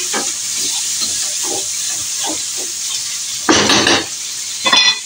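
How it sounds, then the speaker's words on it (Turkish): Vermicelli is roasting in a pan and being stirred, with a steady sizzle under scraping and clinking. Two louder scrapes of the utensil against the pan come near the end. The sound is close, and no one speaks. "Böyle gördüğünüz gibi şehriyem de kavruldu."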